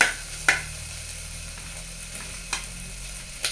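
Beef fat rendering into tallow sizzles steadily in a saucepan over moderate heat, a soft continuous crackle broken by a few sharper pops and clicks, heard alone without talk.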